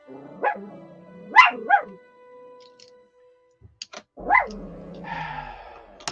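A small Pomeranian yaps several sharp, high barks in quick pairs, close by, with short pauses and a clatter between bursts.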